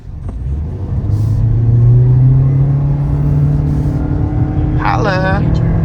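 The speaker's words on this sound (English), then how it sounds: "See if we can pop a wheelie here, Bill." A 2023 Toyota Prius accelerating hard on the road gives a loud, rising engine and road rumble from inside the cabin, steady for several seconds, with a short spoken phrase near the end.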